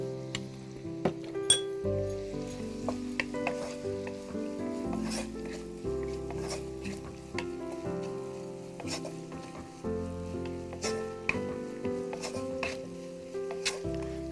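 Onions fry with a little salt in a pan, giving a soft steady sizzle with a scattering of stirring clinks and scrapes against the pan. Background music plays underneath.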